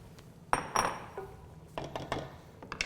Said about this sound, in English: So the next step is to add our cooked cannellini beans.